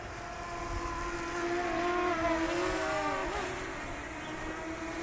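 A DJI Mini SE small camera drone flying outdoors in wind, its high whining rotor tones rising and bending as it manoeuvres and returns, steady and moderately near with no talk.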